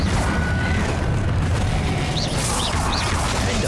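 Incendio fire spell cast in Hogwarts Legacy, a loud roaring whoosh of flame with dense rumbling body, sustained for the whole stretch with a few brief whistling magical chimes over it.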